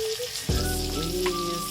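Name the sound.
bananas sizzling in a pan with butter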